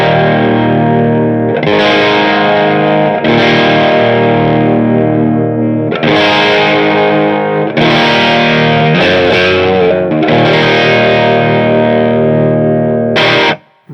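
An electric guitar with its tone knob fully up plays bright, ringing chords loudly and continuously, each strum sustaining with a shimmering effect before a sudden stop at the end.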